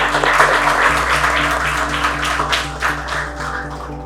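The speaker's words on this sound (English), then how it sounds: "Can we have a round applause for all of you?" An audience gives a round of applause at a mind-training workshop session, a broad steady wash of clapping over low hum, moderately loud and continuous for the whole stretch.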